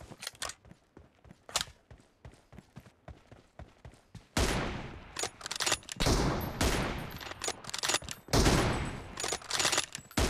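Gunfire in the video game PUBG Mobile, with rapid bursts of sharp shots, sparse at first, then denser, louder volleys of fire.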